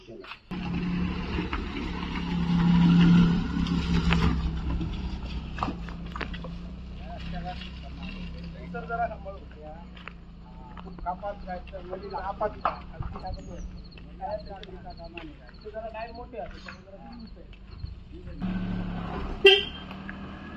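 A second-hand four-wheeler car, the family's first, pulls up outdoors with a low engine rumble and a short horn toot, while people talk nearby throughout.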